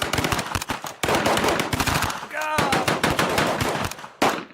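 Loud, close machine gun fire in rapid rattling bursts, with a short whistling tone breaking in briefly midway and a final burst after a pause.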